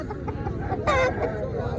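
An Aseel rooster at a poultry market gives short clucks and a brief squawk, close and fairly loud, over a background of market chatter.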